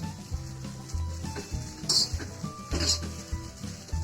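Sabudana khichdi is stir-fried in a pan with a soft sizzle and a few scraping stirring strokes, under a low droning background hum.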